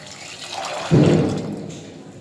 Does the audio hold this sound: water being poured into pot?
yes